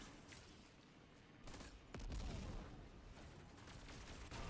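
Heavy-weapon fire crackles in a Destiny 2 Grandmaster Fallen SABER strike, rapid bursts of in-game shots and impacts layered over busy combat noise, fairly quiet overall with a louder stretch near the middle.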